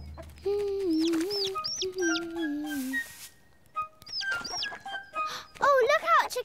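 A cartoon chicken clucks and squawks in a few quick bursts amid light animated sound effects, with a voice speaking over part of it.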